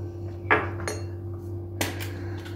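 A teaspoon spoons loose tea leaves into a teapot, giving a couple of sharp metallic clinks and taps over a steady electrical hum.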